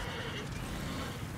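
A horse in the video game Darksiders whinnies in a brief, loud, fairly continuous burst over busy game sound, with no talk.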